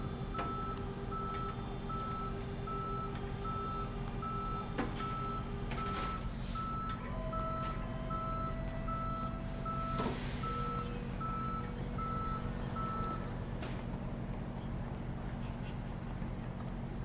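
Evenly spaced reversing beeps from a tow truck in the Police Simulator: Patrol Officers video game repeat over a rumbling engine, mixed with other game tones while someone speaks.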